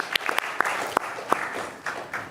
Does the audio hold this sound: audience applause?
yes